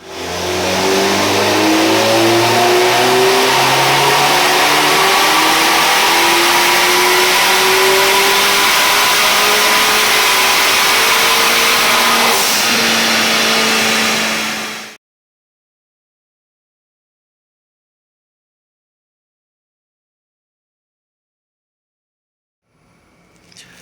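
BMW 1 Series F20 114i engine on a dyno, revving loudly and steadily climbing through the revs for about fifteen seconds, then cutting off abruptly into silence.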